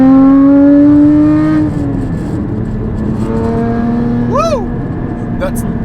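Porsche GT4 accelerating hard up a freeway on-ramp with intake and exhaust upgrades, a loud rising engine note with harmonics climbing through the gears, then a shift and continued pull; a voice whoops briefly near the end.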